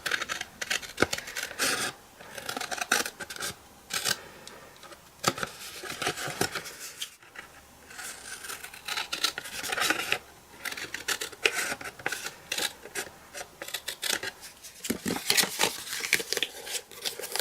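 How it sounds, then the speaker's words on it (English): Scissors snip a thin sliver off a paper greeting card, giving close, crisp cutting and rustling sounds that repeat irregularly throughout. "so you just want to cut a tad off so that it won't make the card buckle. Just trim off a tiny sliver."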